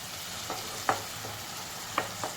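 Onion, tomato and ginger-garlic paste sauté in a pan, a low steady sizzle broken by a few sharp spatula taps and scrapes close by.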